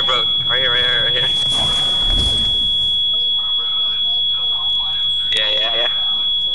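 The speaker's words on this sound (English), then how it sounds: "What's that beeping noise?" A continuous high-pitched electronic beep like a smoke alarm sounds steadily throughout, under people talking and game-like sound effects.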